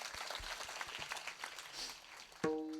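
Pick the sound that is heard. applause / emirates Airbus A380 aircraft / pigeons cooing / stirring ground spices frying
applause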